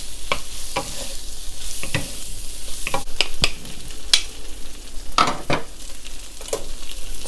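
Garlic shrimp sizzle loudly in a hot pan as they are tossed and stirred, with steady frying hiss broken by scraping and knocking of the utensil against the pan.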